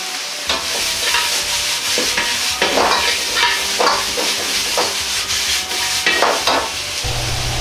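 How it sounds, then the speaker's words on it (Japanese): Potatoes and green peppers sizzle and scrape in a pan as they're stir-fried, with irregular clattering strokes of a utensil over a steady frying hiss. "じゃがいもにうっすらと焼き目がついてきたらピーマンを入れ炒めます。"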